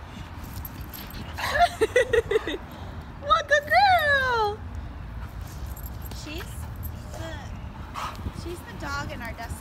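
A dog whimpers and lets out several high, wavering yips in short bursts, with a few fainter whines later, while a person talks softly over the background.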